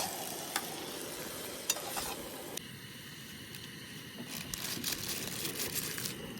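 Onions fry in a pan for Maggi noodles at an outdoor cook-up in Satrenga, Korba, Chhattisgarh, with a continuous close sizzle broken by scraping stirs and brief crinkling packet sounds.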